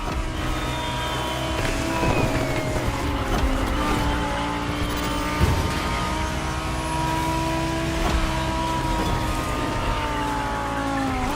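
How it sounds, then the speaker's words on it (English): A Lamborghini Huracan Performante with Liberty Walk tuning driving in Crew Motorfest, its engine holding a steady, loud, high-pitched drone with gradual pitch shifts and occasional tire noise. "So you're driving a Lamborghini Huracan Performante with a special Liberty Walk performance flavor."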